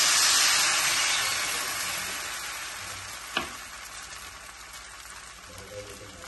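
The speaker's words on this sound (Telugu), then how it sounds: "మళ్ళీ ఇంకొక దోశ వేస్తున్నాను." Neer dosa batter meets a hot pan with a loud, bright sizzle that slowly fades to a steady fry, broken by one sharp click partway through.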